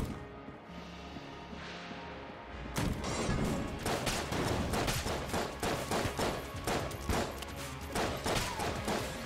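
Rapid gunfire in the video game Enter the Gungeon, with dense bursts of sharp shots rattling in quick succession after a quieter opening, loud and continuous with crashing impacts mixed in.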